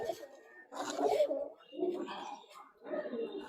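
Pigeons coo softly in three low, rolling bursts, fairly close, with short pauses between them.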